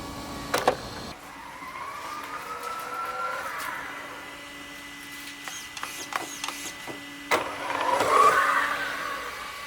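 A Traxxas Fortec 2.0 Ford GT RC car with a brushless motor conversion drives past with a rising electric whine, moderately loud, plus clicks and scuffs and a stronger burst near the end.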